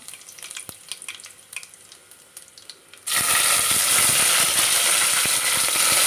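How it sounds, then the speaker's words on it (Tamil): Dried red chillies drop into hot oil with popping mustard seeds, and after about three seconds the faint crackle jumps into a loud, steady, close sizzle that fills the rest of the clip. "கடுகு நல்லா பொறிஞ்சிடுச்சு காஞ்சி மிளகாவை போட்டுக்கலாம்"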